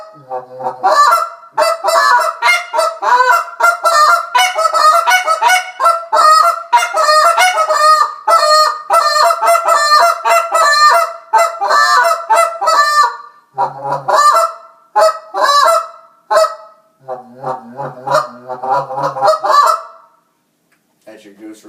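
A hand-blown goose call mimics a flock of geese coming in to land: loud, close, rapid honks and clucks in a fast rhythm that speeds up, breaks off briefly, then returns in shorter bursts before stopping.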